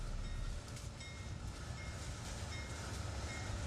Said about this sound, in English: The train was going back to Chicago, but I was home.